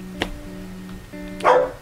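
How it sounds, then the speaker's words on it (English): A pet dog barks indoors with a couple of short, sharp barks, one early and a louder one near the end, over a steady background hum. "Don't mind my dog."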